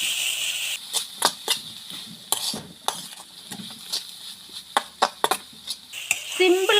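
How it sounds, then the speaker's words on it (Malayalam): A spoon scrapes and clacks against a pan while sliced onion thoran is stirred, irregular knocks over a soft steady sizzle, close and fairly loud, with no one talking. "അപ്പം ഇനി തുറന്നിട്ട് നമുക്ക് കുറച്ച് നേരം ഒന്ന് ഇളക്കി കൊടുക്കാം"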